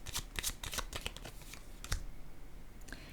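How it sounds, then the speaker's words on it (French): Tarot-style cards laid down one after another during a card reading, giving a series of quick, soft papery slaps and flicks close by with brief pauses between them and no talking. "Je vais déposer une carte sur ces deux-là."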